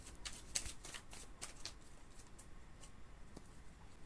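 Tarot cards are shuffled and cut by hand, giving soft riffling and slapping bursts that come early and then thin to faint, sparse flicks over a quiet background, with no talking.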